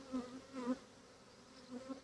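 A honeybee swarm buzzing, a soft droning hum that swells and fades in waves, fairly faint and alone.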